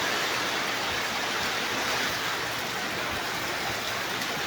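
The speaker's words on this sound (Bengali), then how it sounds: "বাতাস, বৃষ্টি আর বাতাস সমানে একবারে" Strong wind and heavy rain at a market area roar as a constant, dense wash of noise that holds at full strength throughout, with no pauses.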